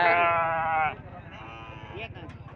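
A sheep gives one loud, drawn-out bleat lasting about a second, then quieter background sounds and murmuring follow, at a sheep market.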